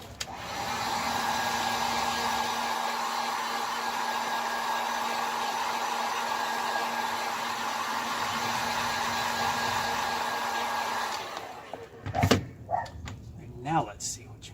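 A hair dryer blowing steadily and fairly close while heating the headliner of a 1973 VW Squareback, running for about eleven seconds before switching off, followed by a few thumps and handling noises.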